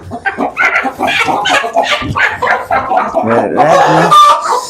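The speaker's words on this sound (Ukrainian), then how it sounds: "Тут квочка намагається спати, але звісно ж я ж її зжену" A broody hen in a backyard chicken coop clucks and grumbles loudly and close by, with rapid overlapping calls and squawks from other chickens. Continuous and agitated throughout, with no talk.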